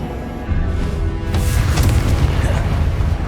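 Confringo explosive spell blast during a Hogwarts Legacy boss battle, a deep booming detonation that swells after a quieter lead-in and rolls on with heavy, sustained low rumble and crackling bursts.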